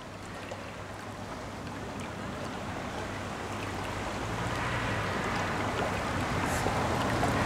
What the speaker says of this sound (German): Man kann das hier sehr schön sehen, wie elegant Dieter durchs Wasser gleitet